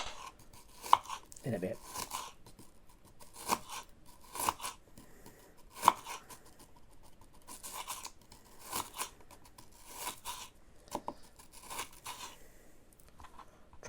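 Onion is thinly sliced with a knife on a cutting board, a series of sharp, crisp cuts spaced irregularly, fairly close and moderately loud, with a few faint words spoken between them.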